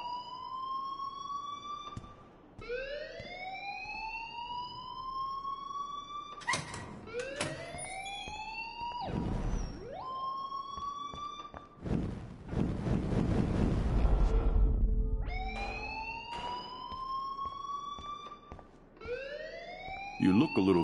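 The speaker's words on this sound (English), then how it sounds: "please turn off that alarm" An alarm rings in the video game Life is Strange: a loud repeating electronic whoop that sweeps upward, cycling over and over with brief breaks, while a burst of noise passes midway.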